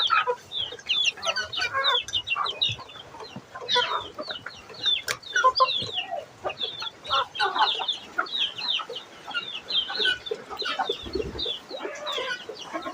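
Chickens cluck and chirp almost without pause in a backyard pen with chicks, a busy, fairly close chatter of many birds.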